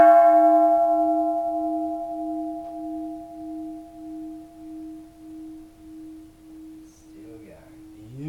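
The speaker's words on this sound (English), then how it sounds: "now we are going with the musket ball bell." A bronze musket ball bell is struck once and keeps ringing with a clear, pulsing sustained tone that gradually decays, with a little handling noise at the end.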